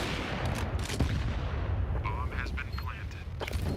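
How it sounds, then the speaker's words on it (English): Grenade blast and gunfire in a Counter-Strike match at a professional tournament, heavy booming hits and bursts of shots, with a voice speaking over the game. "That's a hell of a grenade."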